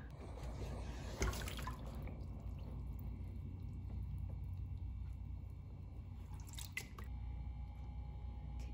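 Paper pulp stirred around in a tub of water for hand papermaking with a mould and deckle: faint, continuous sloshing and dripping with a couple of sharper splashes, close but quiet, no talk.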